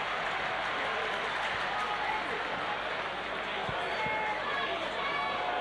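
A stadium crowd at a Salford versus Wigan rugby match roars in a sustained, dense wash of cheering and applause that stays loud and steady throughout.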